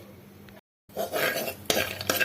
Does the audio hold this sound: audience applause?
no